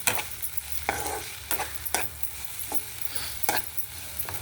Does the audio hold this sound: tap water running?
no